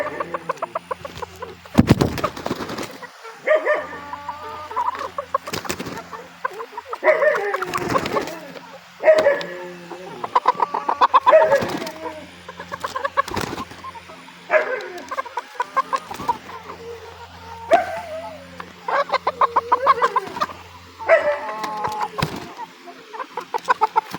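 Lohmann Brown hens on a poultry farm in Pakistan cluck and squawk in repeated bursts, loud and close, with a steady low hum underneath.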